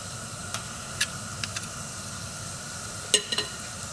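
Beignets fry in oil with a continuous low crackling sizzle, joined by a few faint clinks and taps, no one speaking.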